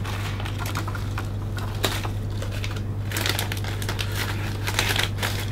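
Cellophane crinkles steadily and closely as a gift bag is wrapped, crackling in irregular rustling waves over a constant low electrical hum.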